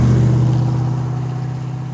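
A classic BMW engine fitted with a high-performance exhaust idles with a deep, steady burble, loud and close, gradually easing slightly quieter over two seconds.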